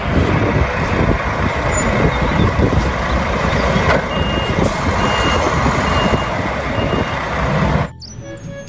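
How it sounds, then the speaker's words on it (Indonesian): A large cement mixer truck idles with a loud diesel rumble while its reversing alarm beeps repeatedly, close by, before the sound cuts off abruptly near the end. "Yang ini ada mobil truk molen."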